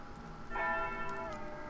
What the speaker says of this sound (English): I gotta wait for the bell.